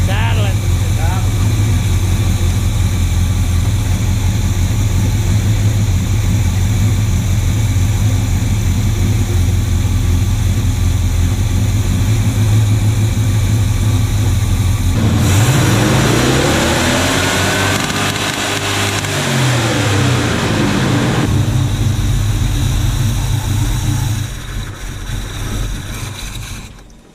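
A classic Chevrolet C10 truck engine with a vacuum leak and spark knock idles steadily with a loud, low rumble throughout, while a brief hum rises and falls midway.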